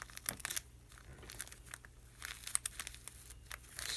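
Faint, close snips and crinkly rustles as scissors cut through a craft feather, irregular short crunchy bursts scattered over a few quiet seconds.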